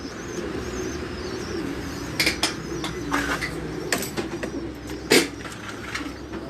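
Chinese breed pigeons coo softly in a loft over a steady background hum, with low repeated calls and a few sharp chirps and wing flutters scattered throughout.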